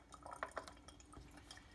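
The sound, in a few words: water poured into measuring cup for sourdough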